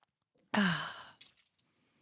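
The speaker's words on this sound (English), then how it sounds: "Let's have a slurp." One loud, airy slurp of a drink lasting about half a second, followed by faint small clicks and swallowing sounds in a quiet room.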